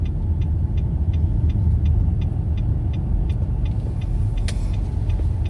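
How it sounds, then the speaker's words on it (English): A truck engine rumbles steadily nearby in a parking area, a loud continuous low drone with faint regular ticking above it and no talk. "we have an idiot truck in here"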